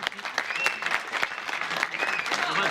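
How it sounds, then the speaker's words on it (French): Audience applause at an MJC gathering, steady dense clapping throughout with a crowd murmur and voices mixed in. "Et j'applaudis"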